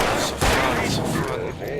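Gunfire in the video game Alan Wake, a heavy blast followed by a rumbling tail, loud and close, with a voice talking over it.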